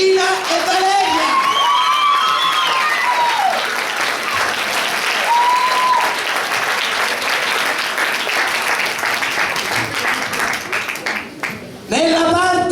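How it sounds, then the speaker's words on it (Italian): Sustained audience applause in a theatre for the stage crew, dense and loud with some cheering and shouts, a voice speaking through it before the clapping fades near the end. "un applauso per Giuseppina e Valeria"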